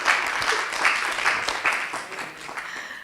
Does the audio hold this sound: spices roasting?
no